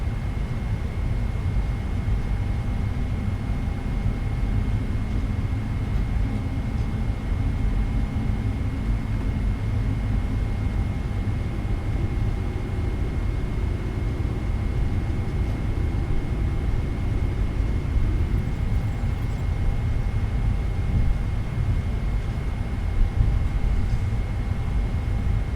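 Boeing 777 taxiing in a home-built flight simulator cockpit, a steady, low simulated engine rumble with a constant faint whine, unchanging and moderately quiet throughout, without speech.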